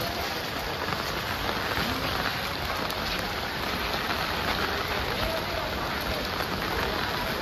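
Heavy rain pours down steadily in Nalasopara during flooding, a dense, unbroken hiss of drops hitting surfaces at constant loudness throughout, with no voices.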